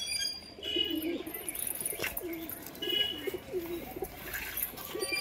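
Pigeons cooing in a loft on a hot day, a repeated soft rolling coo close by, with occasional chirps and a faint flutter of wings in the background.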